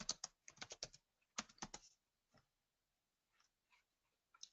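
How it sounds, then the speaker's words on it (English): Keys on a computer keyboard clatter in two quick bursts of typing, close and fairly quiet, followed by a few scattered isolated taps. "We're going to type in white wine."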